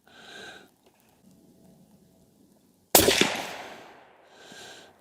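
A single suppressed shot from a Ruger American Gen II rifle at a range, a sharp loud crack with a decaying tail, preceded and followed by faint movement noises.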